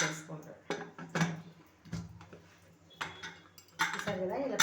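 A pressure cooker holding a bowl of rice in water is set down and its lid closed, giving several loud metallic clanks and clinks of pots and utensils, with a voice talking between them.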